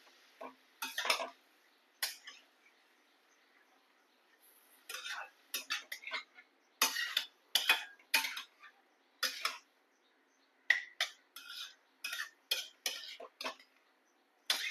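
Stirring grated sweet potato with ghee and chili in a pan over low heat: repeated bursts of spoon scraping and clattering against the pan, close, in quick uneven clusters separated by short pauses.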